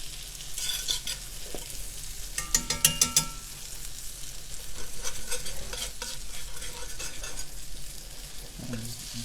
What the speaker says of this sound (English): let these mushrooms bathe, drenched down in this nice buttery wine sauce